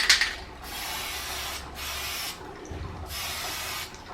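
A can of silver spray paint with a cracked nozzle gives three close, hissing bursts, each lasting about a second, separated by short pauses. A faint rattle comes at the start.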